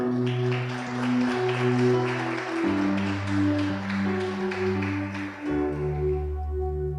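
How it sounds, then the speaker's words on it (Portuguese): A church congregation applauds during a sermon, a steady broadband patter of clapping blended under sustained keyboard or organ chords that shift in pitch throughout. "Dê um aplauso para o Senhor."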